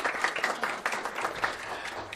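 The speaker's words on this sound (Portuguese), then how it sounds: "Vamos aplaudir?" Audience applause at a public session on FIES student loan repayment, a dense, even burst of many hands clapping together, fairly close and sustained for a couple of seconds.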